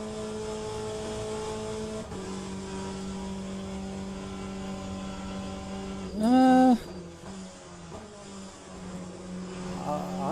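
A race car engine in the video game Le Mans Ultimate drones at a steady pitch, then drops at an upshift around two seconds. A sharp rising rev flares briefly near six seconds before the engine settles back, with no speech.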